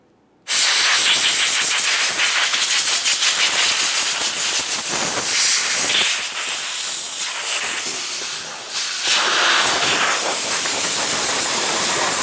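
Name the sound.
compressed air blowing off top of fuel tank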